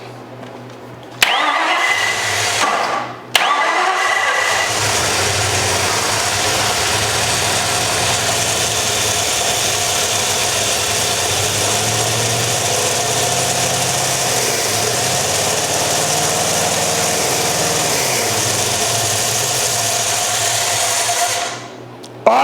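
A car engine cranks briefly, catches and fires up loudly, then settles into a steady rumbling run with throttle held for nearly twenty seconds before cutting off, close and with no voices.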